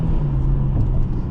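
A 2011 Infiniti G37S with a 6-speed manual revs hard above 4,000 rpm, giving a loud, close, steady engine drone with a deep rumble that holds evenly throughout.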